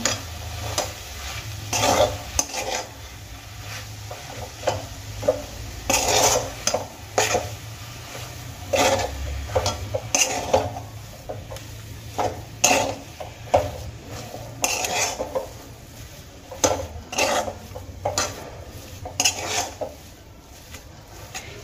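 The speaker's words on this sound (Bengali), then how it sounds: "এবার খুব ভালো করে চালের গুঁড়ো আর আলু সেদ্ধ করা আলু মিক্স করে নেব মশলার সঙ্গে" Rice flour being mixed by hand with boiled potato and ground spices, giving repeated scraping, stirring and knocking strokes against a bowl at an irregular rhythm, fairly close and moderately quiet.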